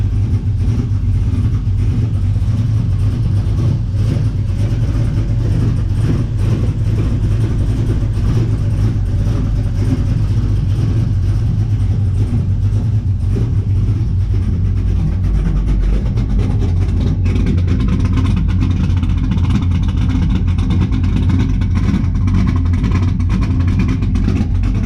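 A 1971 Chevelle with a swapped LS engine and Holley Terminator TBI runs after a cold start, a loud, steady, rumbling idle that shifts slightly lower partway through and carries on alone without talk.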